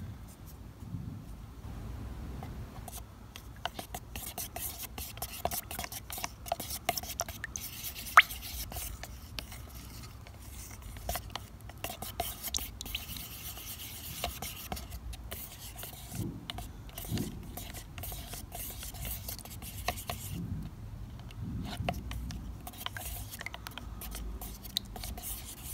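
Rust-Oleum paint mixed with mica powder being agitated, a steady low scraping and rubbing with faint irregular ticks running continuously at low volume.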